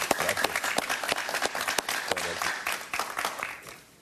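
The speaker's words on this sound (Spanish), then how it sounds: "Un aplauso para él, por favor." A studio audience claps for a guest, Cuban-American politician Ramón Saúl Sánchez, on a talk show. The applause is a short, moderately loud burst of many hands that fades out toward the end.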